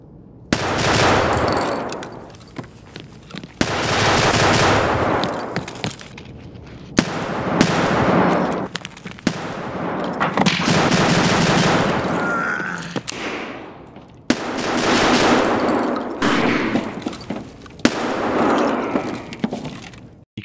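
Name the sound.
gunfire from shotgun with flechette ammo, Escape From Tarkov video game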